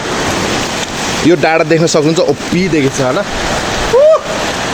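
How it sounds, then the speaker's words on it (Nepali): Heavy rain pours outside in the evening, a loud, steady broadband roar that runs the whole time while people talk over it. "अब हाम्रो बाहिर मस्त पानी पर्छ"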